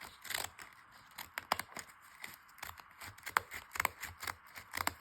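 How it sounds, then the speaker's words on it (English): Ripple-edged scissors cut through paper page edges in a quick run of crisp, close snips and rustles, irregular but steady, with no talk. "I like the way that the edges of the paper look when they're done with this ripple scissors"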